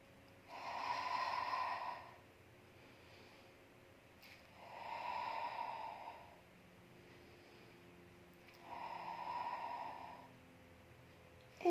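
Three slow, soft breaths during a Pilates exercise, each a breathy exhale lasting about two seconds, spaced evenly with quiet pauses between, close and faint.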